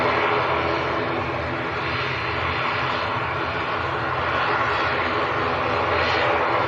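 Aircraft in Isle of Man livery departing Manchester Airport, a loud, steady engine roar that stays strong and broadband throughout, rising slightly near the end, with no voices over it.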